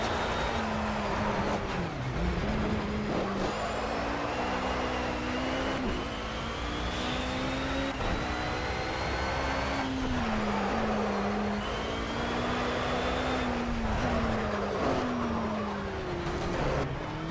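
A BMW racing car engine in the game Project CARS drones and rises through repeated gear changes, a steady mid-loud tone that climbs, dips and climbs again over the whole stretch, no talking.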